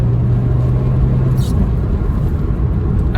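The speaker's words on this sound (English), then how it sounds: "under the bonnet, we've got a 2 litre naturally aspirated 4-cylinder engine which produces 140 horsepower" A Peugeot 206 GTI with a 2-litre naturally aspirated four-cylinder and five-speed manual drones steadily from inside while driving, a constant low rumble with a brief faint high whoosh midway.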